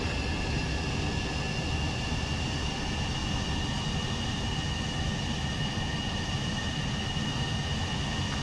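A fighter jet in Ace Combat 7 rolls down a runway after landing, its engine a loud, steady, broadband roar with a constant whine held evenly from start to finish and no voices.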